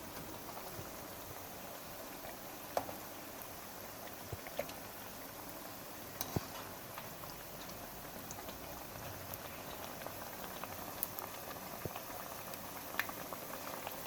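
Mayo pakoras deep-frying in hot oil give off a low, steady bubbling hiss with scattered faint pops and crackles, fairly quiet and continuous throughout.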